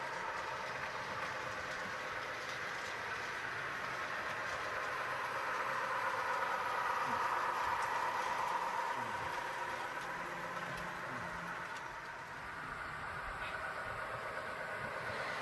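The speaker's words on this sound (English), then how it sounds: "The WM2 is now traveling along the Potomac River" HO scale model train, the Western Maryland 2, running along a layout beside the Potomac River, a steady low mechanical rumble of wheels and motor that swells slightly midway then eases back.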